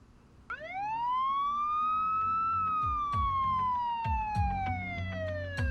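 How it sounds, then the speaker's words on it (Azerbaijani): A police car siren sounds nearby as one long, loud wail that climbs and then slowly falls. Low thumps and road rumble sit beneath it. "Polis maşını gəldi."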